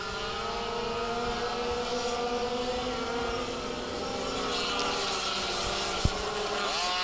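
Air-cooled senior minibikes race on a track at Lydd, their small engines producing a continuous high buzzing drone with several overlapping pitches that rise and fall as the bikes pass, steady and fairly loud.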